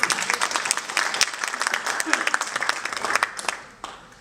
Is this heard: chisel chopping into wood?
no